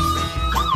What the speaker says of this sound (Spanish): Quiero escuchar las sirenas